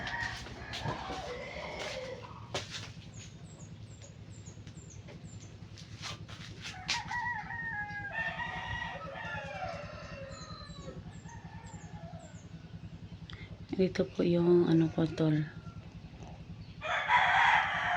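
Chickens cluck and a rooster crows outside, heard from inside a room in a few bursts against a steady low background, with a brief exchange of voices near the start.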